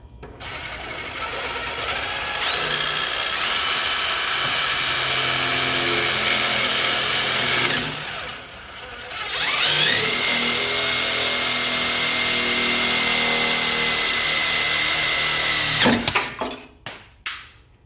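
A power drill drives a self-tapping screw into a pickup tailgate, a loud steady whine running for several seconds, pausing briefly, then spinning up again for a long second run before stopping with a few short bursts.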